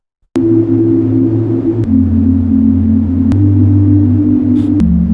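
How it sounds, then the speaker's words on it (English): A deep synth sine wave thick with noisy unison plays sustained notes that shift pitch every second or so, with sharp clicks at each change. "So this is literally just a sine wave with a ton of noise unison"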